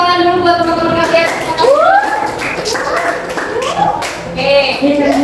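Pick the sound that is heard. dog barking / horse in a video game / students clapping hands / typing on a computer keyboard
students clapping hands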